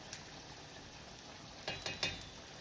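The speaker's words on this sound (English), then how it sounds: "So all we have to do now is just let these fries cook" Homemade fries frying in oil give off a faint, steady sizzle, with a few brief stirring clinks near the end, heard close but quiet.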